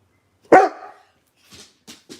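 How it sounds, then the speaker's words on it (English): A dog gives one loud, close bark, followed by three shorter, quieter yips spaced about a third of a second apart, with no talking over them. "Have you heard my dog now?"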